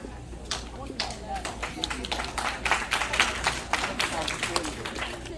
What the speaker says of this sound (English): Clap for yourselves. Clap for yourselves.